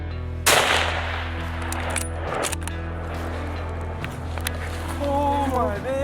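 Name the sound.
rifle gunshot while bear hunting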